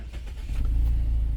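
A 2021 Mazda 3 G20 engine starts up close by. A short cranking churn quickly builds into a loud, steady low rumble that settles into idle.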